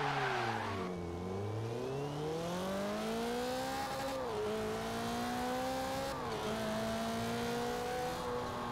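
A Toyota Celica ST205 turbo in Forza Horizon 4 revs and shifts, with a thin rising turbo whistle riding above the engine note, fairly quiet and with no talk over it.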